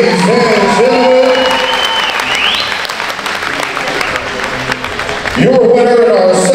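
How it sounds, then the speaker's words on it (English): Loud crowd applause and cheering at a fight event in Springdale, Arkansas, honoring two young athletes, with whoops and shouted voices over the clapping and a surge of cheers near the end. "give them a round of applause, ladies and gentlemen."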